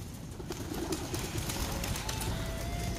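Racing pigeons released at a basketing point in Santiago, Isabela, heard as soft cooing and fluttering close by over steady outdoor background noise, with no talk.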